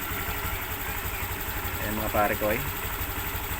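A Honda Click v2 scooter idles with its battery removed, a steady close engine putter running throughout while someone speaks briefly over it.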